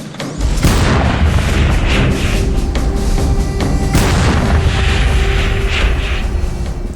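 Mortar rounds fired at night by a Coldstream Guards mortar platoon on a front line against the Taliban, with loud sharp booms and sustained rumbling blasts, close and continuous, without talk.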